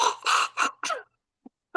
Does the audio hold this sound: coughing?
yes